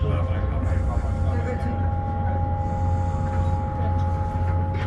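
A steady, loud rumble and hum of a GWR passenger train in motion between Perranwell and Penzance, with a voice speaking over the continuous rolling noise.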